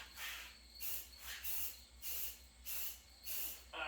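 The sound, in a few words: cheap spray paint sprayed from a can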